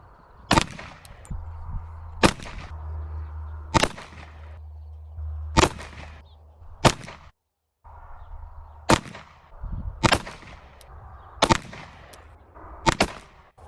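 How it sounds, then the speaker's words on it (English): Shots ring out from a Rock Island Tac Ultra 1911 .45 ACP pistol at an outdoor range, sharp loud reports in evenly paced groups, about ten in all with a brief pause midway and a low hum beneath. "we're gonna do 3 more shots of each types of ammo, a 3-shot group"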